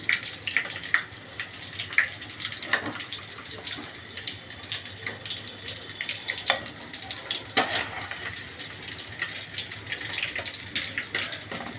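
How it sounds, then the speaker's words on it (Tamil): Chicken pieces crackle and sizzle steadily in hot oil for a tea-powder chicken fry, with scattered sharper pops and a few louder spatters throughout. "இதே மாதிரி எல்லா சிக்கனையும் போட்டு பொரிச்சு எடுத்து வச்சுக்கோங்க"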